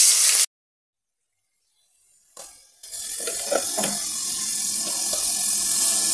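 Ground ginger, garlic, cumin and onion paste is dropped into hot oil. After a moment of silence, a faint knock precedes a sudden broadband hiss that swells and continues steadily up close, with no voices.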